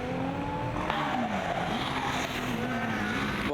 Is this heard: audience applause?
no